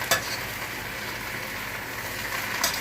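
Cabbage fries in a pan with a steady, hissing sizzle, and a couple of brief scraping stirs come at the start and the end.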